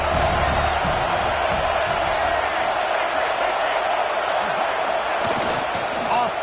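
Home crowd at a college football game against Virginia Tech, a loud sustained roar of cheering and whooping from a packed stadium, with a commentator's voice over it.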